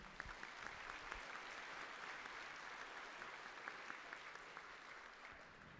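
Applause from the audience at a miniature-painting competition awards ceremony, where entries are being announced, runs as a continuous, even wash of many hands, soft and distant throughout with no speech.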